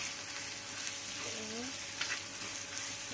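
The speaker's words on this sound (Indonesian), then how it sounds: "terus diaduk pelan sampai harum lagi" Soto babat spices with turmeric frying in a pan, a steady sizzle under gentle stirring scrapes, with brief faint voice in the background.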